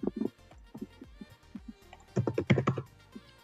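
Close, quiet clatter of computer keyboard keys while code is written, with irregular bursts of keystrokes and a quicker, louder cluster of taps near the end.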